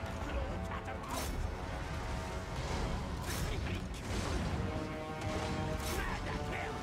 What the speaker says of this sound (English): Plague claw catapult!